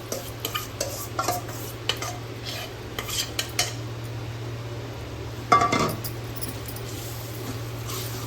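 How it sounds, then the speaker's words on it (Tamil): Rice flour dough for uppu urundai is stirred in a pan until thick, with repeated spoon scrapes and clinks against the metal over a soft background hum and a faint sizzle, and no voices. "இது கெட்டியாகிற வரைக்கும் நல்லா கிளறி விடணும்"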